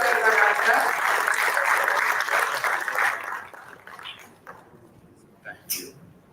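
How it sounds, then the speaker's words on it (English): An audience at a regional business summit in Mumbai claps loudly and densely, the applause filling the room, then thinning and fading out over a few seconds, with a few scattered sounds near the end. "Can we have huge warm claps everyone out there?"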